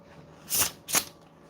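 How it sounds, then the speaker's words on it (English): New waterproof playing cards pushed together in a faro shuffle, two short crisp riffling bursts close to the listener in an otherwise quiet room. "Let's check the Pharaoh Shuffle on these."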